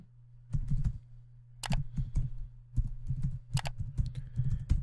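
Keys tapped on a computer keyboard while entering an email address, with rapid clicking bursts in uneven clusters close up over a faint steady hum, and no talking.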